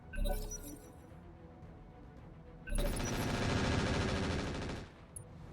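Turrets fire on a mech in RogueTech: a short burst of rapid gunfire, a lull with scattered metallic clinks, then a longer sustained rattling volley of about two seconds before it cuts off.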